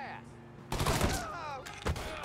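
Shotgun fire in the video game Mafia 3: a quiet lead-in followed by a sudden loud blast with a trailing ringing tail, then a second close report near the end.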